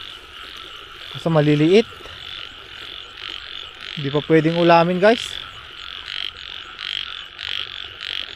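Field frogs croak in two short bursts of rapid, rattling calls over a steady insect-like buzz, with someone speaking briefly between them.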